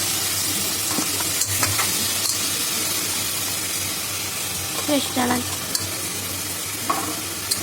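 Ginger garlic paste sautés with mushrooms in a hot pan, a close, continuous sizzle with the scrape and clink of stirring now and then.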